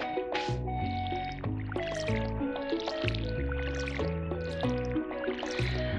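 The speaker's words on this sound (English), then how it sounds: "we're going to need to water our plants today" Soft splashy pours of a watering can over plants in the farming game Stardew Valley repeat under the game's steady background music.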